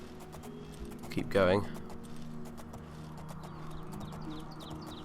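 Horse hooves during first-person riding in the video game Oblivion, a faint rhythmic clip-clop under game music and a brief spoken remark, with a small burst of sound partway through.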